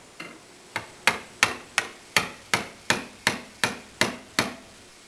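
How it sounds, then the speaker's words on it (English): A corner chisel is struck in a steady series of about eleven sharp, evenly spaced blows, squaring off the corners of stretcher mortises in sideboard leg work; each hit rings briefly and decays, close and loud with no talk. "I'll simply use that chisel on these mortises and square off the corners"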